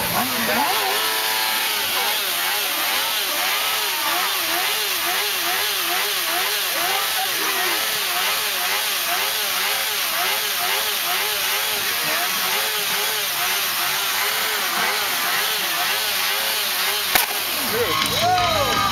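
A Yamaha motorcycle engine roars loudly and continuously at a motorcycle rally, its pitch rising and falling as it's revved over and over.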